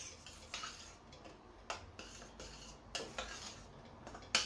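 A utensil stirs semolina into hot water in a pan for pineapple kesari, with soft scraping and intermittent light metallic taps, close but quiet.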